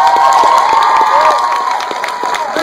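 Film premiere audience at the Pan African Film Festival cheering and applauding loudly, with a dense wash of shouts, whoops and clapping that stays strong throughout.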